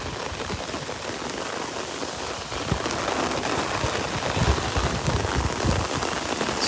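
Downpour from a tropical storm beats on an umbrella held on a Florida beach, a thick continuous patter of drops that swells louder halfway through, with scattered heavier hits and no voices.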